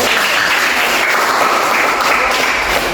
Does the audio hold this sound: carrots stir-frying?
no